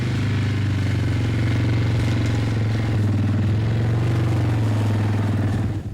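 An ATV engine runs across a slope at a slow, steady throttle, a loud, close, continuous droning hum with a faint clatter and no sharp revs.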